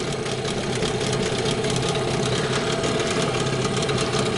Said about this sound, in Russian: со второго раза, ребят, грубо говоря, завелся